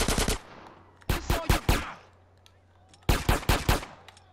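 Rapid machine-gun bursts sound in a crime video game shootout involving a street gang and Russians, with three loud, close volleys of automatic fire separated by brief pauses and a low background hum.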